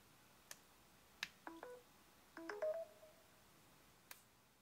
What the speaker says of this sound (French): si vous branchez votre téléphone sur un chargeur ultra rapide, l'animation sera bleue, puis elle va émettre un son qui va être différent